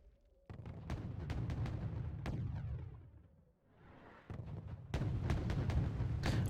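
Mortar artillery firing in the Wargame Red Dragon video game, a run of booming shots layered over a steady rumbling battle bed, with a brief lull before the firing resumes heavier, no talk.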